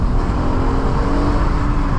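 Exhaust of a 2019 Acura TLX A-Spec rumbles outside the parked car, a loud, steady low drone held close by with no voices.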